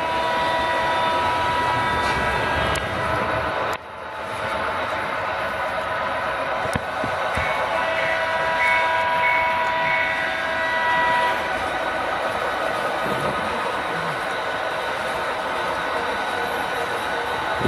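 Several model trains run continuously on a figure-eight layout with a steady mechanical whir and rumble, loud and close, with no one speaking.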